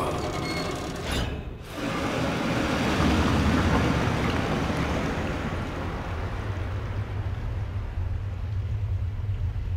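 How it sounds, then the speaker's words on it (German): Water drains away in The Evil Within, a steady broadband rush and low rumble that starts after a brief dip and keeps washing on at a loud, even level, with no voices. "Jetzt lassen wir das Wasser ab"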